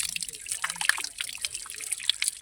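Freshly harvested carrots from a Nilgiris farm are washed in spring water, giving a continuous close trickle and dribble with small splashes and drips.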